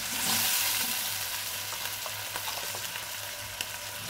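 Mixed vegetables with mustard frying in a pan for a Bengali chhachra, with a little water and ground spices added, giving a steady loud sizzle and occasional stirring scrapes close by, with no talking.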